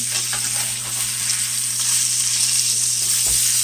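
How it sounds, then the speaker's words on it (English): Ribeye steak sizzles loud and steady in a hot pan just after being flipped, a dense unbroken hiss with a low hum underneath. "let's go ahead and flip the other steak here."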